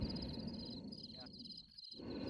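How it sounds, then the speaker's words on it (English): Crickets chirp steadily in a rapid, high pulsing trill that runs through nearly the whole moment, with a low rumble beneath and a brief dip near the end. "Literal crickets."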